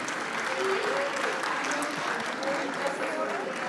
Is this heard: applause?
yes